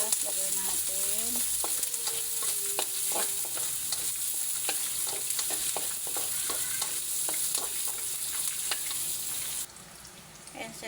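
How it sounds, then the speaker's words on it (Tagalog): Ginger and onion sautéing in a hot pan, with a continuous sizzle and repeated scraping and clinking of a spatula stirring, until the hiss suddenly drops away near the end. "Igisa lang natin itong luya. Sunod natin ng sibuyas."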